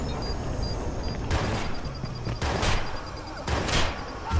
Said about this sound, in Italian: Esplosione, dai.